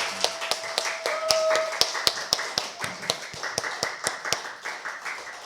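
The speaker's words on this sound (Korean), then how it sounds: "우리 하나님 앞에 영광의 박수를 우리 제대로 한번 힘차게 한번 올려드리겠습니다." A church congregation clapping together in steady rhythm at a Sunday service, sharp even claps repeating about three times a second, close and clear, with a faint sustained tone early on.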